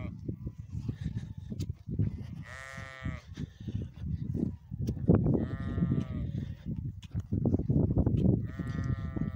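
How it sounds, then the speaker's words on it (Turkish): A sheep ewe bleats loudly three times, calling for her lamb that has fallen asleep, over ongoing rustling and background noise outdoors on a farm. "Annesi arkasında bağırıyor anası."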